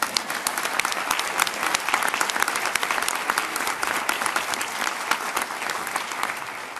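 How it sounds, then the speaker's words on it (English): Sustained applause from an audience at a college presidential inauguration ceremony, a dense, steady roar of clapping hands filling the room for several seconds with no break. "One more round of applause for Erin"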